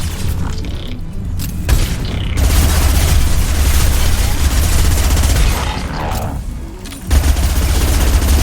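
Heavy gunfire and booming explosions in the video game Mass Effect 2, a loud, dense, continuous barrage with rumbling low end and mechanical clatter, briefly dipping twice before surging again.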